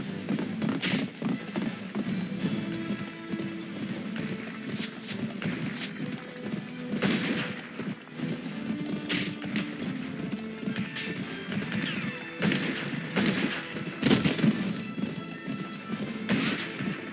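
Horse hooves clip-clop in a steady walking rhythm in the video game Gun, set in a canyon, with occasional louder thuds and knocks, mid-distance and continuous beneath game ambience.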